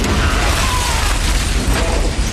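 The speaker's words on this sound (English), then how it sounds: "it turns out it's a bomb with a big explosion." A bomb goes off with a big explosion in a movie, heard as a loud, sustained low boom with dense rumble and broadband roar filling the whole stretch, no voices over it.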